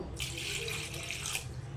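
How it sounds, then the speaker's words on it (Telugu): Water pours steadily into a cooking pot from a tap or glass while preparing pepper rasam, a continuous close hiss and splash lasting the whole moment with no talk. "ఇక్కడ వచ్చేసి 2 గిలాసాలు అయితే నీళ్ళు అయితే పోసుకున్నాను"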